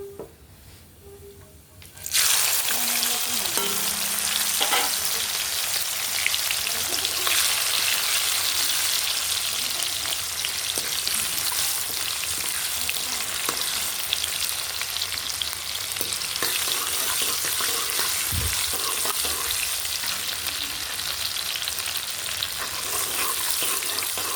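Chopped tomatoes and green chilies drop into oil with browned cumin seeds, and after a brief quieter start a loud, steady sizzle takes over, broken by a few soft stirring sounds, with no voices.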